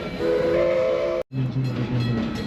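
A train horn sounds twice with a brief gap between blasts, over the rumble of the Galloping Goose running on a nearby railroad museum loop track.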